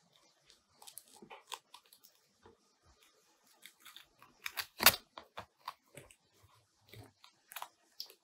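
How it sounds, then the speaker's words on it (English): Scissors snip through laminated contact paper while trimming around the edges of a jellyfish suncatcher craft, a string of sharp, close crinkly cuts and crackles with short pauses between them, no talking. "Now I'm gonna cut around the edges."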